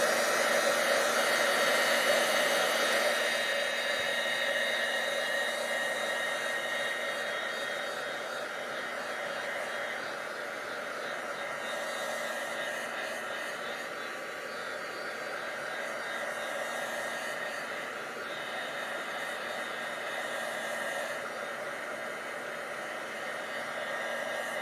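A heat tool blows steadily to dry ink on a mixed media card front. The loud, continuous whooshing airflow runs close and unbroken for the whole stretch, easing slightly in level partway through, with no voices over it.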